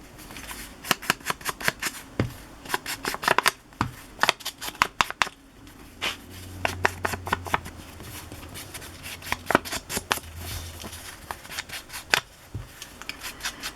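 Paper or fabric being handled, cut and tapped while covering the back of a handmade bingo card for a library pocket craft: a run of sharp, close clicks, snips and rustles in uneven bursts, with a brief low rumble midway.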